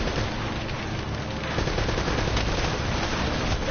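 Turret gunfire in the video game Uncharted: Drake's Fortune: a dense, continuous barrage of rapid shots and blasts, loud and sustained for the whole stretch with no talking.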